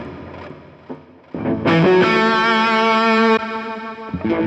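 Electric guitar played through a Hotone Ampero amp modeler and effects processor: a few sparse plucked notes, then a sustained, swelling chord with a lush, chorused, reverberant clean tone that rings for about two seconds before fading into more picking.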